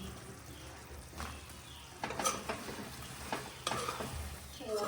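Deep-fried chicken pieces are stirred into sauces in a pan for Chicken Manchurian, with soft sizzling and several scraping stir strokes at close range.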